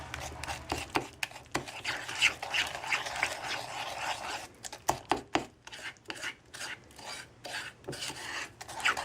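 Egg is mixed into a cookie dough of creamed butter and sugar, making an irregular scraping, rasping rhythm of a utensil working through thick batter in a bowl, close and moderately loud.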